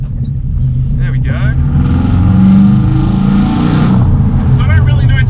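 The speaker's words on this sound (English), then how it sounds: "It's got a full straight pipe from the turbo back, so it sounds very nice, and you can hear all the spoolie boy sounds" Turbocharged Subaru Forester with a full straight-pipe exhaust from the turbo back, accelerating hard with a loud, continuous droning engine note that swells in the middle, heard from inside the car with talk over it.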